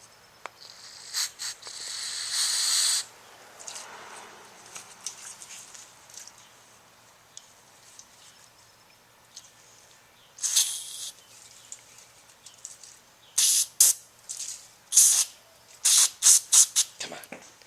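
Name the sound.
spraying brake cleaner into clutch master cylinder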